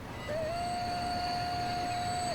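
A long passenger train with triple-bogie cars runs by in the Transport Fever game, giving a steady, moderately loud rolling rumble with a sustained high whine that holds through the whole passage. No one talks over it.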